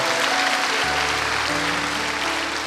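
A church congregation applauds during a sermon, a dense wash of clapping at steady level, with a low sustained tone running underneath from about a second in.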